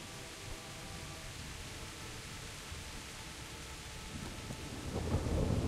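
Steady rain with low thunder rumbling in the medieval open-world game Kingdom Come: Deliverance, a constant wash of downpour that swells louder near the end.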